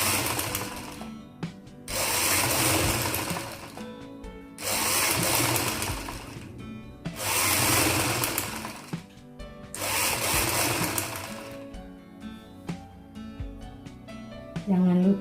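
A sewing machine stitches a seam on a gamis dress in several rapid mechanical bursts separated by short pauses, with handling noises in between, close and clear.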